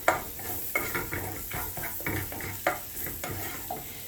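A spoon stirs chicken with freekeh, spiced with chicken seasoning, in a pan over the heat, giving rhythmic scraping strokes roughly every half second over a soft background sizzle.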